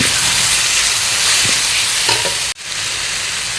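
Chopped tomatoes fry with ginger garlic paste in a pan, giving a loud, steady sizzle with some stirring scrapes and a brief drop-out near the end.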